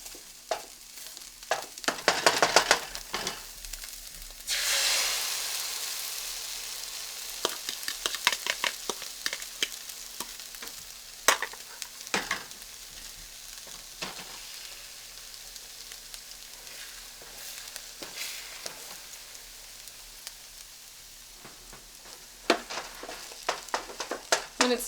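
Eggs and potatoes for breakfast burritos sizzle in a frying pan, a steady crackling fry broken by scraping and stirring clatter, close and moderately loud with no talking.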